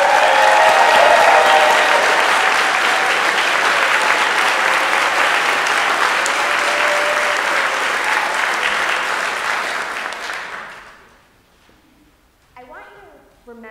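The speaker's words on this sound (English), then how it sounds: "Please give her a warm round of applause" Loud, sustained audience applause for a presenter at a Santa Barbara pitch event fills the room for about ten seconds before fading away, and a voice begins speaking just after it dies down.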